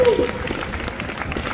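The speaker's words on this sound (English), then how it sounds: "Let's give Kate a nice round of applause." A crowd at a baseball camp Q&A with kids gives a short burst of applause, loud and close, with voices mixed in underneath.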